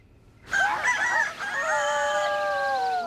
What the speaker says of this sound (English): We get up with the rooster around here.